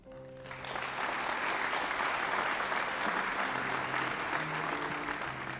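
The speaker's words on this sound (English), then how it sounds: "Let's give one more round of applause to our honored students from Grand Oaks Elementary." A school crowd applauds the honored students from Grand Oaks Elementary at a May 2023 awards ceremony. Steady, full clapping swells in quickly and holds unbroken at moderate loudness, with a faint tonal hum underneath.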